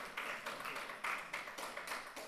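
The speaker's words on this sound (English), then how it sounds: "A round of applause, ladies and gentlemen." An audience at an award ceremony applauds with a dense, even patter of many hands clapping, sustained and fairly distant, without a clear peak or fade.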